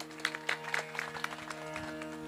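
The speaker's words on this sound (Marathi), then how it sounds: "टाळ्या वाजवा" Audience at a kirtan clapping hands in a steady rhythmic beat, roughly four claps per second, over sustained harmonium-like tones and music, moderately distant.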